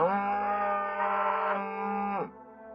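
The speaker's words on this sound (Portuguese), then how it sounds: "de repente, eu ouvi outro grito agudo de vaca que estava vindo do milharal" A cow on a farm lets out one long, loud moo, steady and drawn out before it drops away abruptly near the end.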